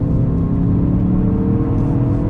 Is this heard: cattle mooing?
no